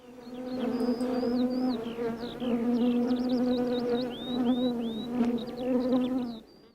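Honeybees buzz close by in a steady, droning hum that swells and dips for several seconds, while birds chirp brightly above it before the sound cuts off.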